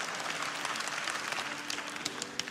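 A church congregation claps together at a senior ministry gathering, a steady wash of applause filling the room with a few sharper claps standing out near the end.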